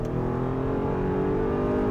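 A Kia K7 with the 2.5 Smartstream engine accelerates from inside the cabin, its smooth engine drone rising slightly in pitch, steady and close, with no talking over it.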